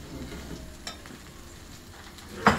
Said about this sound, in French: j'ai fait chauffer un filet d'huile. Je rajoute les oignons